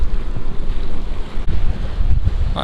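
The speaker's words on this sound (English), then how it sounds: "It's pretty windy" Strong wind buffets the microphone at the seashore of Clevedon's estuary in late spring at high spring tide, a loud continuous roar with gusts, while waves rush below; no one speaks.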